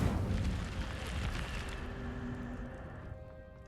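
A fire spell cast in a wizarding video game: a loud, roaring whoosh of flames with a rumbling burst that stays steady, then fades slightly over a few seconds.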